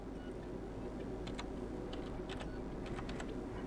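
Quick clusters of computer keyboard keystrokes type out a phone model number, soft and close over a steady low background hum, with no talking.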